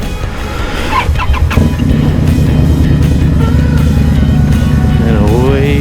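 An Indian Scout motorcycle engine catches and settles into a loud, close, rumbling idle before the throttle rises and the bike pulls away with a climbing rev. A voice speaks briefly near the start.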